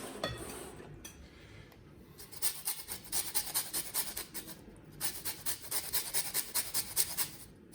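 Lemon zest grated against a metal grater, a run of quick rhythmic rasping strokes in two bursts separated by a short pause, close and fairly quiet with no talk.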